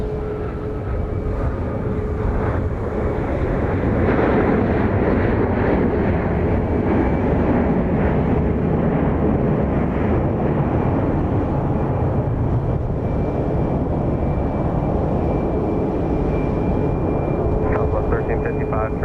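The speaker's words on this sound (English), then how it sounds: "Arriving from Reagan National Airport in Washington, this 737-700." A Boeing 737-700 airliner arriving at Dallas Love Field from Reagan National Airport in Washington makes a loud, steady jet roar that stays strong and continuous throughout.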